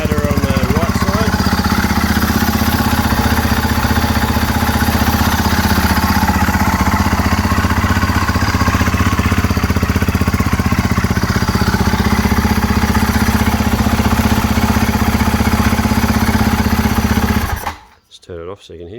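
A motorcycle fitted with an aftermarket exhaust idles loudly and steadily up close with a throbbing rumble, then shuts off and falls quiet in the last second.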